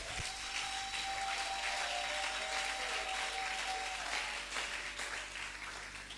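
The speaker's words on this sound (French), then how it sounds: "Est-ce que tu peux déjà acclamer pour ton miracle?" A church congregation gives sustained, fairly faint applause, a dense wash of clapping that holds steady for about five seconds before easing off.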